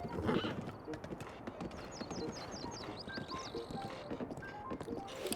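Hooves clip-clop steadily among horses in the Breath of the Wild game world, with chirpy bird-like calls and ambient game sounds around, a possible faint whinny, no speech.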